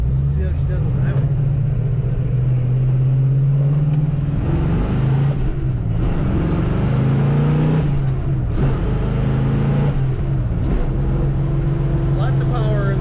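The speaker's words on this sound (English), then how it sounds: "Let's see how she does on the highway." A 1966 Chevrolet Nova with a floor-mounted 4-speed cruises on the highway, its engine droning and shifting pitch as it accelerates, with steady road and wind rumble heard from inside the car.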